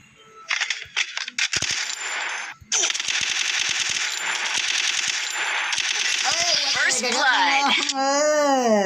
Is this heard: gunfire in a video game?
yes